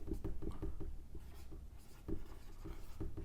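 Marker or chalk writing on a board during a chemistry lecture, a steady scratchy stroking with short taps and pauses, close and fairly quiet, with no talking over it.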